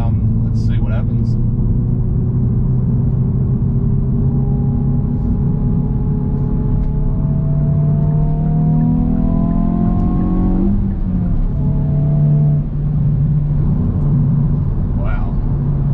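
Hyundai i20N hatchback in N mode accelerating from cruising speed, engine note climbing steadily through the gears with a brief shift dip, heard from inside the cabin with a voice talking over it.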